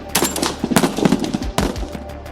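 Rapid bursts of gunfire ring out in a tabletop wargame battle on a beach, a dense fusillade of sharp cracks spread over about two seconds, with louder heavy blasts near the end.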